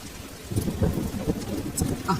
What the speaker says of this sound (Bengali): ঝমঝম করে পড়ছিল বৃষ্টি সঙ্গে বজ্রপাতের গর্জন